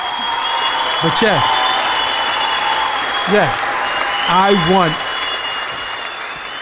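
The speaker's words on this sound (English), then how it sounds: "We'll give you applause to that" Steady applause from a group of people fills the whole stretch at an even level, with voices speaking over it in short bursts.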